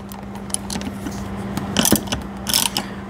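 A ratchet fitted with a 4mm Allen socket tightens the neck brace bolts, giving close, bursty clicking and mechanical rattling in a few irregular clusters.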